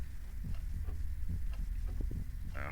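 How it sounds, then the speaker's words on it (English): A character's heartbeat in the horror video game Song of Horror, soft low thumps repeating at a steady rhythm beneath a dull rumbling background. "you can hear her heartbeat"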